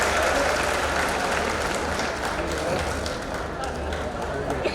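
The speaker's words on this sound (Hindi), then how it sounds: "जोरदार तालियां बजाएं आपने हमारे अपने।" An audience claps loudly and continuously at a Hukumchand mill workers' event where dues cheques are handed over, a dense crowd applause with speech mixed in.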